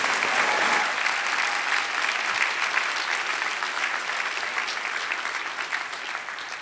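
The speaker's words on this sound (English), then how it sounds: "Let's really give them a round of applause" Commencement crowd applauding graduating students at East Georgia State College, a loud sustained wash of clapping that holds steady throughout and tapers only slightly at the end.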